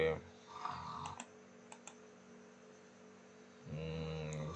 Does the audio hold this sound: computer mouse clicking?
yes